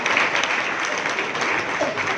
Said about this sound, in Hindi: उनका पेरेंट्स के लिए ताली